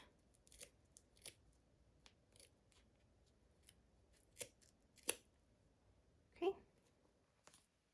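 Scissors snip through yarn pulled tight, a few quiet, separate cuts spread unevenly across a hushed room, each one a short crisp click.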